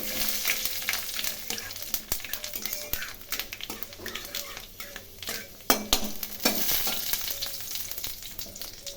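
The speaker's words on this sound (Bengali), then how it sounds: "গরম তেলে শুকনো লঙ্কা, কালো জিরে, মিষ্টি ও মৌরি ফোড়ন দিলাম।" Dried red chili, nigella and fennel seeds tempering in hot oil for a Bengali mixed vegetable curry, a steady close sizzle and crackle with occasional stirring clinks throughout.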